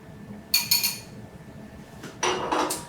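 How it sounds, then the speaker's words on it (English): Wheat bran and whole wheat flour whisked together in a bowl as dry muffin ingredients: two short bursts of metallic clinking and scraping against the bowl, separated by a brief pause, close and fairly clear. "I'm gonna whisk together my dry ingredients first"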